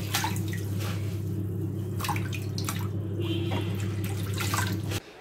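Leafy greens are washed under a kitchen tap: a steady rush of running water with splashes and drips from handling the leaves, close by, no talk, cutting off abruptly at the end.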